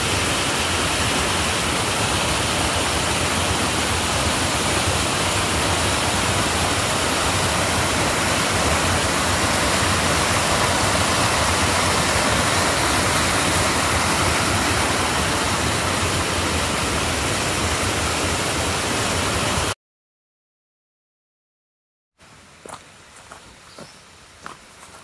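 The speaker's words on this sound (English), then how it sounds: "Waterfall number two, everybody." A steady, loud rush of Twin Falls in Pisgah Forest roars continuously for about twenty seconds, then stops abruptly, leaving quiet rustling and a few soft footsteps.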